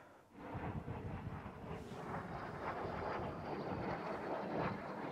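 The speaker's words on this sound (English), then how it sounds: "Oh, that's a fighter jet." A fighter jet flying overhead near a parked motorhome, a broad, loud roar that swells and holds steady across the whole stretch, with no speech.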